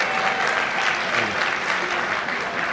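An audience at a chamber of commerce chairman awards evening applauds and cheers for the chairman: dense, steady clapping filling the room from start to finish, with no one talking over it.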